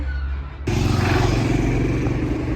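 A motorcycle or bus passing loudly along a city street in Granada, a sudden rumbling roar that starts abruptly and holds steady and loud; no talk over it.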